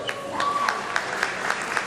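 Scattered applause from a crowd at a Jordanian flag-raising ceremony outside Yonkers City Hall, a few clapping hands heard alongside a speaker's voice.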